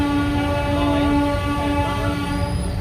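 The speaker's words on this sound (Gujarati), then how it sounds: "લોકલ ટ્રેન જાય છે." A local train passes a Kuberanagar railway crossing in Ahmedabad, its horn sounding a long sustained tone over the rumble and clatter of rolling wagons, close and loud, fading slightly near the end with no speech.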